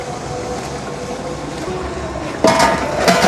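Chicken pieces tipped into fried masala in a large pot for degi chicken haleem, a steady sizzling hiss that bursts louder and brighter as the meat hits the hot oil.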